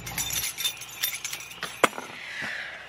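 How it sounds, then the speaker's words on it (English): A bunch of keys jangles and clinks in short metallic bursts, close by, with one sharper clink near the middle before the sound fades into rustling. "if I can hold on to the keys"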